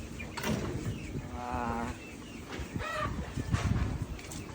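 A flock of about fifty three-month-old chickens in a poultry pen clucks and murmurs nearby, with scattered calls over a busy low background and no clear talk.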